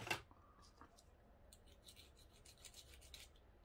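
Short, light rasping strokes of sanding repeat quietly against a metal object being tested for gold, removing its coating, with a sharper knock at the start and end.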